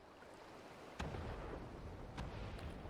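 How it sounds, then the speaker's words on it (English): Cannon fire in the video game Final Fantasy XIV: two heavy booms about a second apart over a low rumbling ambient bed, with no talk. "While we follow the cannon fire."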